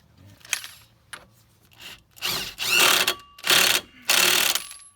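A ratchet spins a 1 1/4 inch axle hub nut onto a Dodge Grand Caravan CV axle, several close, loud bursts of rapid clicking separated by short pauses, each run quick and rattly.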